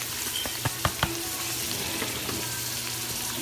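Garlic, onion and diced sweet peppers frying in olive oil and butter, a steady close sizzle with a few quick spatula taps and scrapes early on and no talking.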